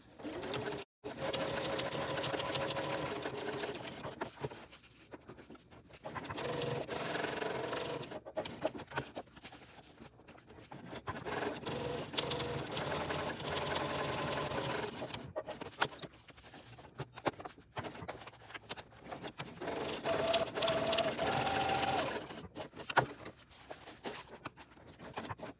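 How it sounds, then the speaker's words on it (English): A sewing machine stitches quilted lines alongside a strip of tape, running in steady bursts of rapid needle patter with short pauses between runs for backstitching, close and fairly quiet. "Back stitching at the beginning and end. and just sewing next to the tape."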